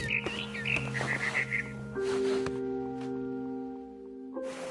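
Short, bright bird chirps from a barn swallow in What Remains of Edith Finch, a quick cluster of high twitters early on over a steady tonal music bed, then fading out.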